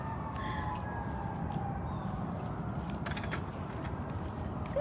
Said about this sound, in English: Sirens and howling coyotes.